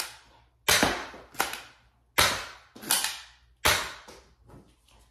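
Five sharp pistol reports from a Trio emergency pistol, spaced irregularly over a few seconds, each loud and close with a short ringing decay, no voices.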